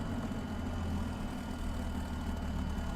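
A P-51 aircraft engine runs steadily in X-Plane 11, giving a constant low rumbling drone at moderate loudness, unbroken and with no voices.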